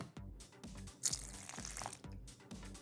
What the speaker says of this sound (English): you can always just add a little bit of water.